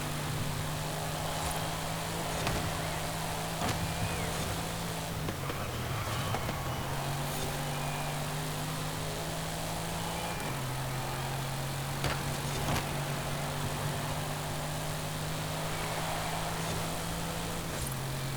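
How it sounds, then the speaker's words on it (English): The V8 engine of an Audi RS 6 Avant in the racing game Forza Horizon 5 drones steadily at a constant pitch, dropping briefly twice as if shifting gears, with no voices over it. "it's a really, really good sounding V8 on this"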